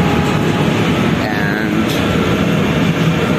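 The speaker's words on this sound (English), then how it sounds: "But we are still in the tram." Riding inside a city tram: a steady, loud rumble of wheels and motor fills the cabin throughout, with a brief spoken word over it.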